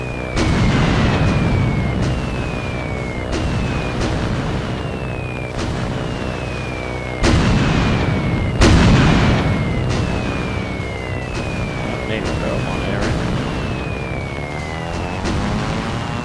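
Repeated booming blasts from bombs exploding in an aircraft combat video game, several heavy impacts spread through a dense rumbling mix with descending whistles between them, loud and continuous with no talk.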